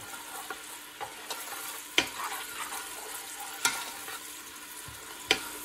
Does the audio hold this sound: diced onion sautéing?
yes